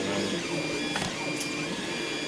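A 3D printer in a print room runs with a continuous mechanical whir and shifting motor tones, steady and close, with a couple of brief higher whines from its moving parts.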